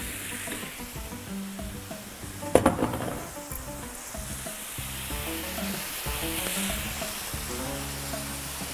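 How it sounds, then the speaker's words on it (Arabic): Kefta meatballs sizzle steadily in a pan with tomato sauce, a continuous frying hiss with a sharp clatter of stirring near the start and no talking. "ملي كتشحر الكفته كنزيدو صوص طوماط اللي وجدناها من قبل"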